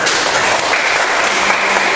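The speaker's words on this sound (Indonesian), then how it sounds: "tepuk tangan untuk kita semua" A classroom of students claps together, a dense, steady burst of applause heard close up with no talking.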